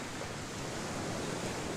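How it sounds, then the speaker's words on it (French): Steady, soft wash of sea waves and coastal breeze on Piémanson beach in the Camargue, near the Grand Rhône mouth, a constant even rush with no distinct breaks. "là où seule la mélodie des vagues et de la brise marine sont présents"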